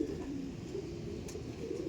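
Soft, low cooing from Andhra pigeons held close by, a steady murmuring call at modest volume, with no talking.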